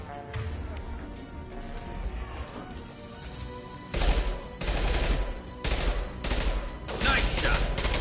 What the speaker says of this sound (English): I love this rifle.